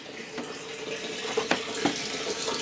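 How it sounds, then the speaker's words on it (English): Water pours steadily from outside into a sailboat's fresh water tank in the V berth, a continuous rushing, splashing flow with a few louder gurgles, close and fairly loud. "there's the water pouring in from outside."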